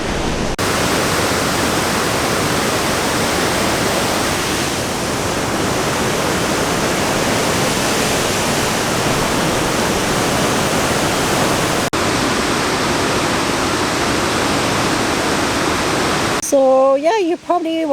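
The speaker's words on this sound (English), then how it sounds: "We are on top of the waterfall now." Steady broadband roar of a waterfall heard from the top, loud and continuous, cutting off abruptly near the end to quieter sounds.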